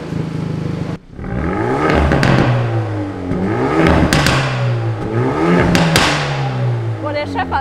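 Hyundai i30 N Performance limited edition with 300 hp heard from inside the cabin as the engine revs repeatedly, loud rising and falling sweeps with rattly, crackling overrun between them.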